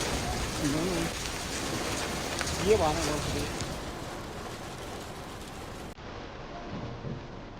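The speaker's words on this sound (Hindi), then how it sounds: "ओले पड़ रहे हैं।" Hail and rain pelt down outside a campsite on the Roopkund trek in the Himalayas, a steady broadband patter that stays fairly loud throughout, with a brief heavier burst near the middle and a voice faintly audible underneath.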